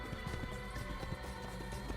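A horse in the video game Assassin's Creed gallops in a steady, fast rhythm of hoofbeats, loud and close, with a brief whinny under a dense game soundscape.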